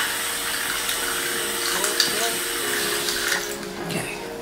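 Water runs steadily from a bathroom tap into a sink, a continuous close hiss under light bathroom sounds.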